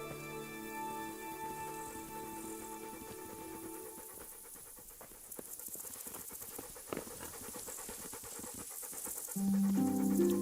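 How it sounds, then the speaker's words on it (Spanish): A dog pants steadily in the medieval role-playing game Kingdom Come: Deliverance, rapid rhythmic breaths sitting under game music and ambient noise, with footstep-like patter coming in later. "Solo escucho el perro, ¿eh?"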